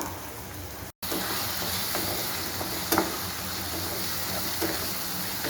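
Onion paste and tomato sizzle and fry loudly in a pan for Bengali mutton curry, a steady close hiss that breaks off briefly near the start and is dotted with a few stirring clacks.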